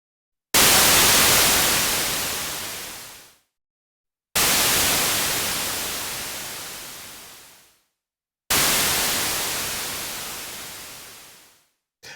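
Noise generator of a Behringer K-2 synthesizer: three separate bursts of bright, hissing white noise, each starting abruptly and loud, then dimming and darkening over about three seconds before cutting to silence, with no talking.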